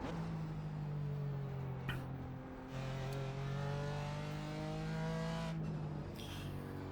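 A BMW M4 GT4 in a racing sim drives over sawtooth kerbs, its steady engine drone shifting pitch as it rides the rumble, with a brief break in the middle before the engine note climbs again.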